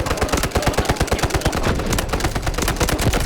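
Rapid automatic gunfire from a P90 or AKS7 in the mobile shooter Delta Force Mobile. The shots come in fast, loud, continuous bursts with no talking over them.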